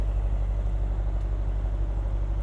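A Mercedes-AMG GT63 coupe's V8 idles at a steady low rumble, a constant deep drone with no revving, heard close and alone without talk.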